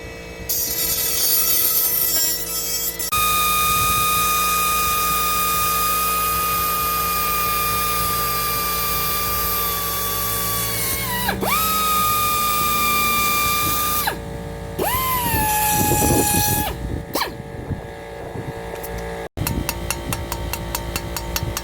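A power drill boring holes in a steel Ford F-150 fender with a wood block underneath, a loud sustained whine that dips in pitch as the bit bites, with pauses between holes.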